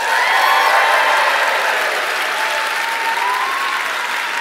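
Sustained, dense applause from a large audience at an Ignite Phoenix event, loud and steady throughout with no speech over it.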